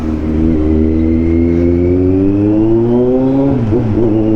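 A big bike's engine revs loud and close, its pitch climbing steadily before dropping sharply near the end, with a continuous low rumble underneath and no talking.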